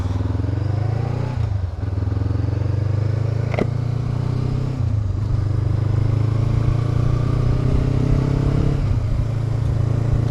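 A Honda Africa 500 motorcycle engine drones steadily at riding speed, loud and close, with a few gear-change dips in pitch and wind rush over the top, no talking.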